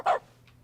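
A dog in The Stanley Parable: Ultra Deluxe video game gives one short, sharp bark, close and clear, followed by quiet room tone.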